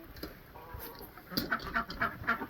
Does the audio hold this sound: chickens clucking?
yes